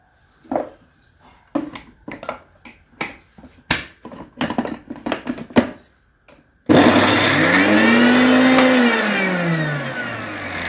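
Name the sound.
mixer grinder grinding soaked meal maker chunks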